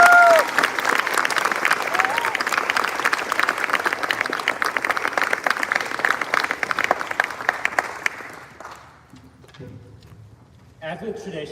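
Applause from an audience at a college Collegiate World Series opening ceremony, honoring the educational directors; dense, loud clapping fills about eight seconds, with a brief whistle early on, then fades to a quiet murmur of voices.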